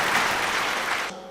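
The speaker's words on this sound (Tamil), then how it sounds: "இவங்க பேசினாலும் கைதட்டுறீங்க, இந்த அணி பேசினாலும் கைதட்டுறீங்க" A debate audience claps in a brief, steady burst that cuts off abruptly, leaving quiet room tone.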